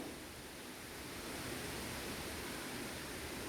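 Coconut milk boils and froths in a pot for a Tamil ulunthanganji, a soft, even, continuous bubbling hiss with no pauses and no voices.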